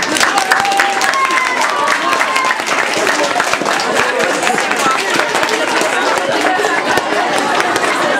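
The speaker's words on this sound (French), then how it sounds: "on peut tous vous applaudir et vous remercier encore, vous et vos professeurs" An audience applauds pupils and their teachers at a Restos du Coeur event, dense steady clapping from a crowd filling the whole stretch, with faint voices and a few whistles mixed in.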